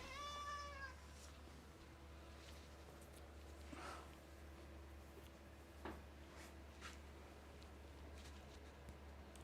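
A cat in a pottery studio gives one short, clear meow at the start. Quiet room noise follows, with a few soft clunks over a low, steady hum.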